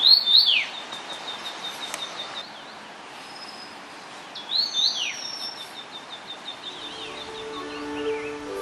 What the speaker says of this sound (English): They communicate in low whispers, interspersed with an occasional bright to meet you call.